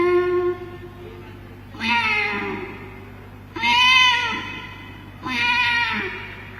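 A performer at a Kerala school arts festival mimicry contest imitates a kitten meowing while fish is being cut, giving four loud, close, drawn-out mewing cries separated by short pauses.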